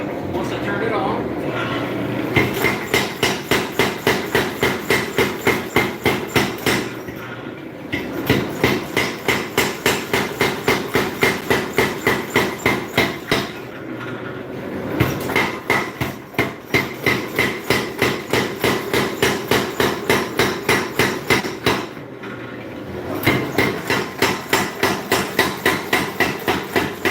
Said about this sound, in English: going back to the power hammer. And I'm going to finish drawing this one out once I turn it on